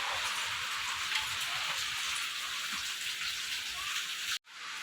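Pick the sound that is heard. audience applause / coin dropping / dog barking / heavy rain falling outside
heavy rain falling outside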